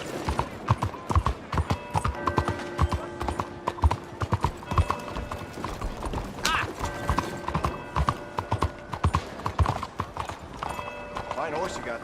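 Steady hoof clip-clop of a horse walking at an even pace in Red Dead Redemption 2, with synthetic game-style tones and a voice speaking underneath.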